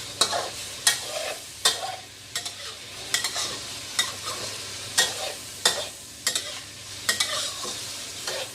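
Ingredients are dry-roasted in a pan and stirred until golden, with sharp scraping strokes of a utensil recurring roughly every second over a soft background sizzle, close and with no talking.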